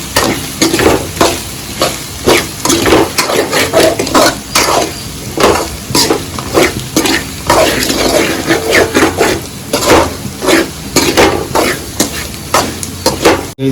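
Chicken masala is stirred into egg rice in a pan over a low flame, with loud, rhythmic scraping strokes of a spoon against the metal repeating steadily throughout.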